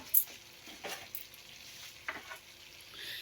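Minced meat (keema) fries quietly in a pan with a soft, steady sizzle, and a few scrapes and clicks come from a spoon stirring it.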